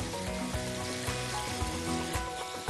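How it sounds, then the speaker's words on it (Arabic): Seafood and broccoli sauté in olive oil with salt and black pepper, a continuous close crackling sizzle with scattered pops and no talk. "تعمله شويه سوتيه مع زيت زيتون تدلل وملح وفلفل اسود"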